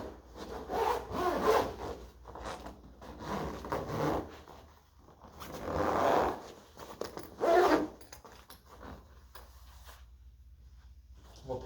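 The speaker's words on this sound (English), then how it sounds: "all we have to do is zip it up" A zipper runs around a padded double bass case in several drawn-out rasping pulls with short pauses between them, close and fairly quiet, without talk.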